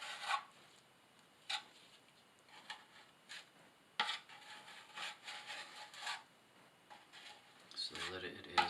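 Laticrete Multi-Max Light mortar is spread onto the back of a tile with a trowel, giving intermittent close scraping and rubbing strokes in short bursts, with quiet pauses between and a voice briefly speaking.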